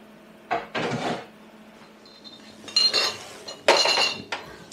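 Glass jars of cooked beetroot clink and knock as they are handled, in several short bright bursts with gaps, close by in a quiet kitchen.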